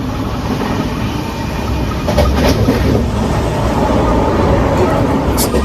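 Loud, continuous rumble and rattle of a train rolling along the rails, heard close up from on board, with faint talking mixed in.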